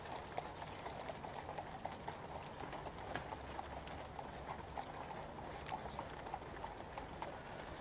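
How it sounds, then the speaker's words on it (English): A Burmese horse's hooves clip-clop faintly and steadily at a distance during Trooping the Colour, over a soft outdoor background murmur. "But a fine old horse, Burmese."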